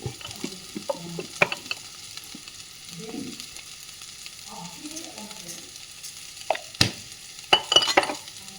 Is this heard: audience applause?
no